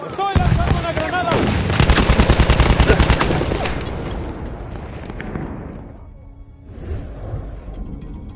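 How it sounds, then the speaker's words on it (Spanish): Rapid machine-gun bursts and heavy booms from a grenade blast in a Battlefield 1 Conquest match, loud and dense in the first seconds, then fading into a lower rumble with a later burst of fire. "¡Estoy lanzando una granada!"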